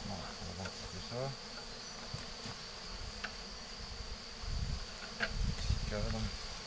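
Bees from Layens hives buzz steadily around a nearby beekeeper transferring combs from six-frame to twelve-frame boxes, a constant drone with occasional louder passes, handling clunks and rustling underneath.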